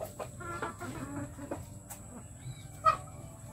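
Heritage chickens feeding on ipil-ipil leaves make soft scattered clucks and low murmurs close by, with a sharper cluck near the end, over quiet background.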